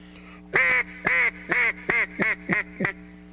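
A hand-blown duck call imitates a pleading, lonesome hen mallard: seven loud, nasal quacks in an even, steady rhythm, each slightly shorter than the last, close up with no talking.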